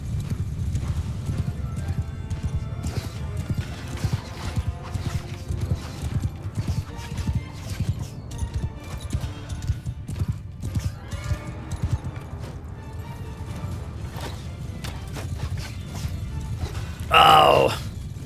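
A horse gallops in the medieval battle game Mount & Blade II Bannerlord, with steady clip-clop hoofbeats and a whinny, under battle noise and a burst of clatter near the end.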